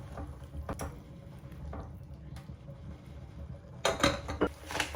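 Vegan ramen soup with okra is stirred in a pot, giving soft scrapes and a few light metallic clinks of a utensil against the pot, rising to a louder clattering stir near the end.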